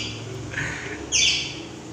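A tame pet parakeet gives two short bright chirps close by, the second louder and sharper, with a faint room hum underneath and no talking.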